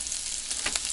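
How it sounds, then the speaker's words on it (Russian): Large chunks of pork fat sizzle steadily in a pan over a cabin dinner fire, a dense, even crackling hiss up close with no talking. "Это сейчас обжариваю сало."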